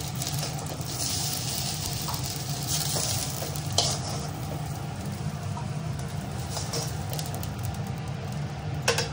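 Soft, well-boiled potatoes fry in oil in a pan, with a constant loud sizzle and crackle, a low hum beneath and a few sharper pops and scrapes along the way.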